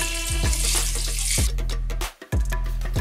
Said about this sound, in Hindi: इसके ऊपर मैं एक मलमल का कपड़ा डाल रही हूँ और इसी पे छेना का जो पानी है इसे मैं छान ले रही हूँ